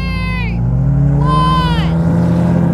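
BMW M3 CS launching from a drag race start, the engine rising in pitch through a loud revving pull, dropping briefly at a gear change, then climbing again, close and dominant, with no talking.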